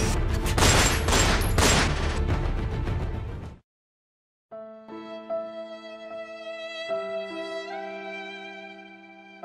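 Gunfire in a staged Indonesian school history drama about romusha: a dense, loud burst of shots for about three and a half seconds, then a sudden cut to silence before a sustained tonal music bed takes over.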